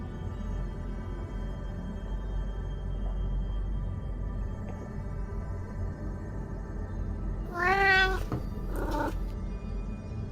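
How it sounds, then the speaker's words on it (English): A pet cat meows twice near the end: a drawn-out wavering cry, then a shorter one, both fairly clear over a low steady room hum. "I love my kitty."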